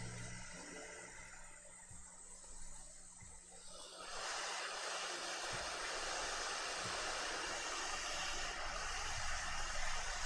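Hot air from a rework station blowing on a computer mouse circuit board to desolder its switches. A steady, close rushing hiss grows louder about midway and holds, with faint low knocks underneath and no talking.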